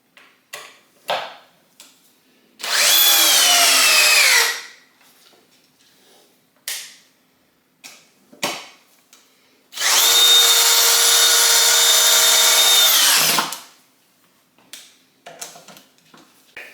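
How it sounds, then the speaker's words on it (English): A Ridgid compact drill on high with a 2 amp hour battery drives a 5/16 by 8 inch GRK screw, two loud sustained whining bursts of about two and four seconds separated by quieter clicks and handling knocks. "Ridgid. 5/16 by 8" GRK, 2 amp hour battery on high."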